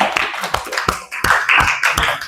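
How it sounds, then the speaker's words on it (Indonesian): A classroom of students claps for a classmate, a loud, close patter of many hands with uneven, overlapping hits over a couple of seconds. "teman-teman tepuk tangan untuk Ola"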